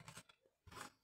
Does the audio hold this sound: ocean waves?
no